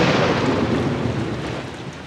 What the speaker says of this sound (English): Cue the dramatic lightning.